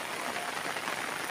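Rain pours down steadily in a cool outdoor setting, a dense, even hiss with no pauses and no voices.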